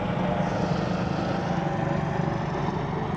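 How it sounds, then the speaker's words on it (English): A helicopter passes overhead near a beach and marina, its low, steady rotor drone filling the air at moderate loudness and holding constant throughout, with no talking. "I'm gonna wait for this helicopter."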